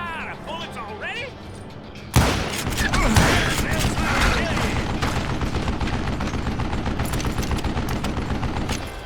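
Gunfire from the Western video game Call of Juarez: Gunslinger: after a quieter opening a loud burst erupts and sustains as a dense fusillade of rapid shots and booms with a voice mixed in.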